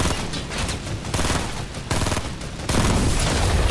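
Dense, sustained gunfire from a Fortnite match, a steady wall of rapid shots that swells louder in the last second, with no talk over it.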